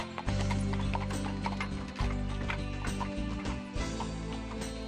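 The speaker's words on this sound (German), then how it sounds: "Wer lieber auf Pferdestärken setzt, kann sich auch eine Kutsche bestellen." A horse-drawn carriage on a ride around the Malter reservoir, hooves clip-clopping in a steady close rhythm over mechanical rattling and wheel noise, with no one speaking.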